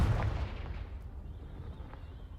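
Confringo fire spell blast in the game Hogwarts Legacy: a deep, booming burst right at the start, then a rumbling tail that slowly fades out.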